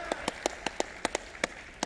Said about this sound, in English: And go ahead and give an applause for Ron, guys.